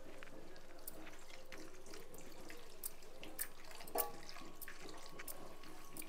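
Milk is poured into jackfruit payasam, a sweet Indian pudding, producing a faint, steady liquid trickle with a few small splashes.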